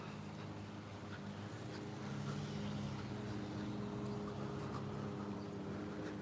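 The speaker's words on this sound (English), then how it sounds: "There's the engine sound in the distance." A distant vehicle engine hums steadily outdoors near a house, a low continuous drone that swells slightly partway through and stays faint in the background with no talking.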